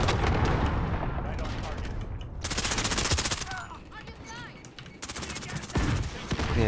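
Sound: gunfire in Call of Duty, a video game

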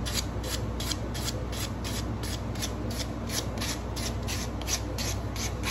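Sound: smoothing the edge of a sable shofar mouthpiece

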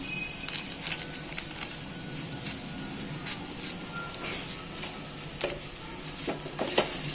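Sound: pasta masala being stirred and frying in a pan

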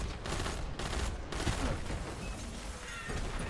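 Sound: enemy gunfire from boomer weapons in Destiny 2 video game

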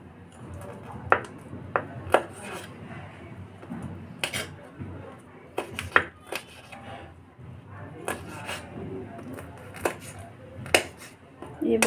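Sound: chopping onion, tomato, coriander and chillies

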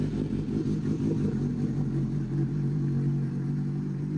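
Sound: Suzuki GSX-S 750 motorcycle engine idling

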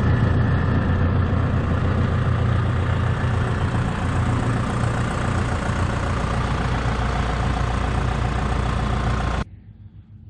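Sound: mower engine mowing clover plot

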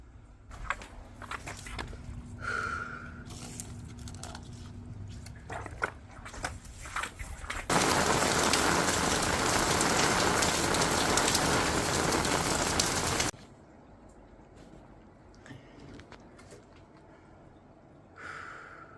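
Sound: heavy rain falling, water flooding

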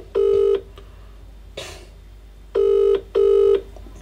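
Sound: phone ringing on an unanswered call

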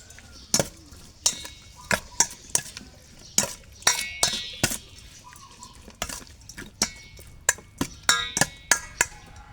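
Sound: stirring beef with salt in a pot

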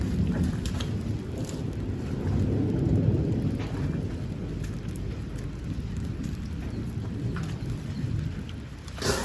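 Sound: rain falling with thunder

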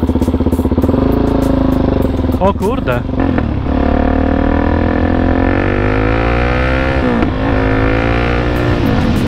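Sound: motorcycle engine revving through exhaust

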